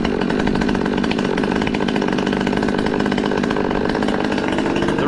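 A Husqvarna T540 MKIII chainsaw, fresh off the bench, idles steadily during its reset calibration, a loud, close, continuous two-stroke buzz with a rapid pulsing rhythm and no talking.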